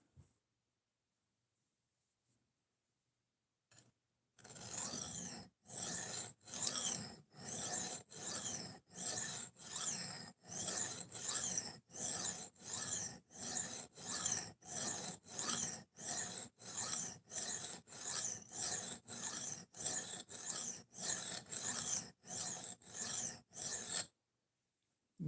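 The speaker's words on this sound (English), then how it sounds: "Sharpening a butter knife." A butter knife is stroked across an Atoma 140 diamond plate in a long run of rhythmic, evenly spaced gritty rasps, each a sharp scraping pass, about two per second after a brief quiet start, close and alone.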